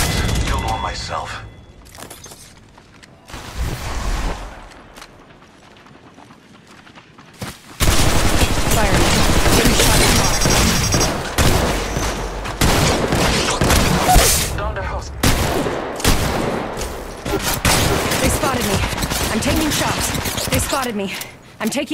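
Gunfire in the mobile shooter Apex Legends Mobile: dense, loud bursts of automatic fire and cracking shots run through most of the clip after a quieter opening, with a voice talking over the battle.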